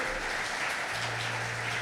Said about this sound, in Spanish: Denle el aplauso al Señor esta mañana por eso.